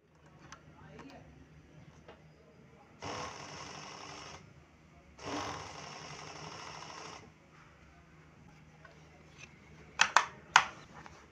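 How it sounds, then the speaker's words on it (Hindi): An overlock sewing machine, freshly cleaned and threaded, stitches cloth in two bursts of fast, whirring mechanical running, each lasting a second or two, with quiet handling clicks between and a few sharp clunks near the end. "उसके बाद हमने चेक करना है कपड़ा रखकर नीचे, ओवरलॉक जो कर रही है मशीन, ये ठीक तरीके से कर रही है या नहीं कर रही"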